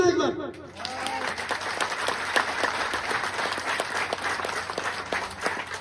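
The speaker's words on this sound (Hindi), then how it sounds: "ताली बजाना एक बार।" An audience claps together in a hall, a dense burst of applause that swells quickly and holds steady at close range, with a voice audible at the start.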